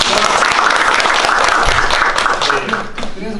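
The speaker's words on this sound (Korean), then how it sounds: "박수 한번 부탁드립니다" An audience at a lecture breaks into steady, dense applause that holds at a constant level before easing slightly near the end.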